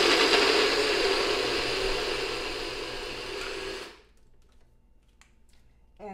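Food processor grinding almonds into almond meal, a loud, steady whirring roar close by that runs for about four seconds, then cuts off, leaving a few faint taps and clicks.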